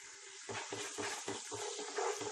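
Water is poured into mandi masala frying in a pan for mutton mandi, giving a faint, steady sizzle broken by repeated low bubbling pops.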